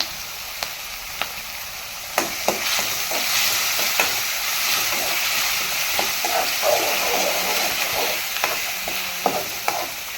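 Chillies and onions sizzle steadily in a frying pan, a continuous close hiss broken by scattered sharp pops and the clink of stirring, with no voices.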